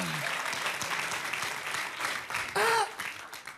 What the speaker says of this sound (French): Applaudissez encore pour le présentateur.